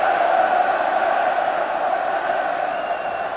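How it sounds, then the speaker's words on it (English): A rugby crowd at the 1988 Wales versus Scotland match roars in a steady, dense wash of cheering, the big Scottish contingent heard alongside the Welsh support, sustained and loud from a distance with no break. "listen to the cheering for Wales especially, but the big Scots contingent letting themselves be heard"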